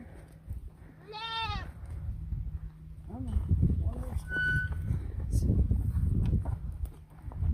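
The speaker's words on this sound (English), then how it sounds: "the one goat that's screaming at us is the triplet to the 2 girls" A young goat kid, triplet brother to two departed sisters, bleats loudly and repeatedly in distress, with nearby talk and farmyard movement underneath.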